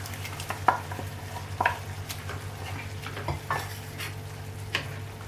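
Cooked toor dal is stirred into vegetables in a pot with repeated clinking spoon strokes against metal over a faint simmering sizzle, quiet and close, with a low steady hum underneath.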